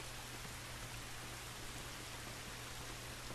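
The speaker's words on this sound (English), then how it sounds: "It's raining" Steady rain in The Last Of Us Remastered video game, a soft, even hiss with a low constant hum underneath, no voices.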